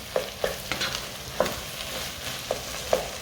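Spinach frying in a pan while being stirred, with about half a dozen distinct scraping strokes over a soft, constant sizzle, close and moderately loud.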